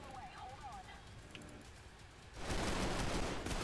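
A burst of rapid gunfire from the video game Trepang2 erupts loudly near the end, following a quieter stretch of game ambience.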